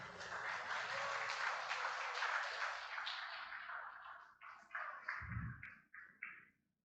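Audience applause welcoming Father Tony, a jubilarian, at a jubilee celebration: a dense, steady round of clapping that thins into scattered, separate claps toward the end.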